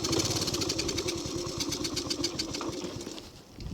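A motorcycle engine runs steadily and close, with a continuous rough, pulsing drone and no voices over it.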